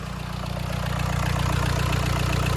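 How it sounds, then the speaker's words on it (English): A Skoda Kodiaq engine idles with its exhaust disconnected, giving a steady, close, rhythmic low throb that stays even throughout with no talking. "It's actually very quiet for the exhaust being left off or disconnected as well, isn't it?"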